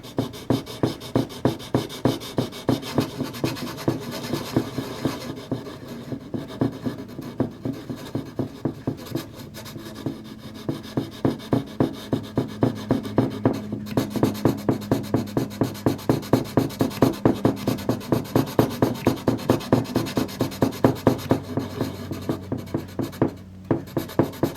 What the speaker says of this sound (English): We're loading up our sanding stick,